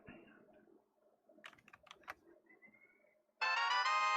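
A phone ringtone suddenly blares very loud and close at the end, a bright sustained melody, after a quiet stretch of clicking and handling noises.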